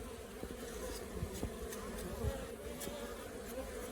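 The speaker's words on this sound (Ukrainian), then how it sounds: "Ось бджола заходить з пилком." Honeybees hum in a soft, steady drone close by at a hive entrance, with individual bees carrying pollen buzzing past now and then; quiet and continuous.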